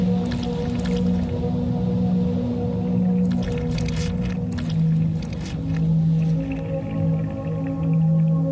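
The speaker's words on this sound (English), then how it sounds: "the whale shoots powerful sound at the squid to paralyze it" Underwater whale vocalization from the deep sea where whales hunt squid: a dense series of clicks and pulsed calls over a steady low drone, loud and continuous throughout.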